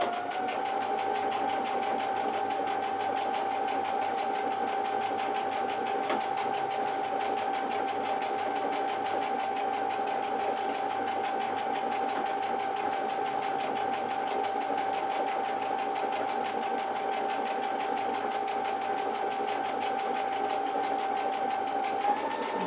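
A sewing machine fitted with a 3-hole cording foot runs a decorative stitch over guided cords in one long, steady whir, close and continuous, with no pauses or talking.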